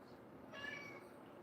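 A house cat lets out one brief, soft meow in a quiet indoor space, faint and alone with no talk over it.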